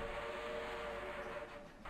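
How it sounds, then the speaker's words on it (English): A steam train's bell in the Trainz Simulator 3 railway game, SAR Petersborough, a faint steady ringing tone sustained over a low rumble, quiet and without voices. "That's a weird bell sound."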